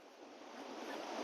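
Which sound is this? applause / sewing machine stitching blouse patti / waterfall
waterfall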